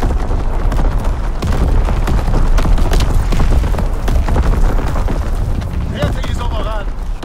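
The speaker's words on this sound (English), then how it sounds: "Incoming enemy artillery" Enemy artillery exploding in a Call of Duty: WWII multiplayer match, dense continuous booms and blasts rolling over one another at high volume, with battlefield clatter and radio voices mixed in.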